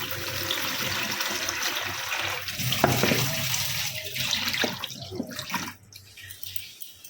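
Blueberries tipped into a bowl of water for soaking, giving a running, splashing water sound that churns for several seconds, eases, then ends in a few drips and a brief clatter.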